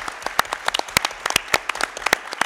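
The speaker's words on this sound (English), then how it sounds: "Again, a big round of applause for our candidates" Audience at a Louisiana coastal issues forum for 2018 congressional candidates breaks into applause, a dense run of sharp claps of varying loudness with no speech over it.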